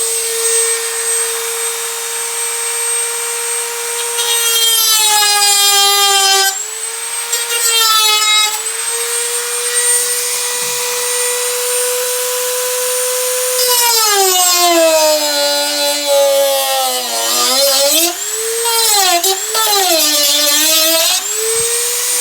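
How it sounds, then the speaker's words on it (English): Dremel rotary tool cutting a plastic impeller from a Flymo hover mower, a loud, close high whine held steady that bends down in pitch in bursts whenever the cutting bites, with short pauses between passes. "So to do the cut, I'm just going to use a Dremel."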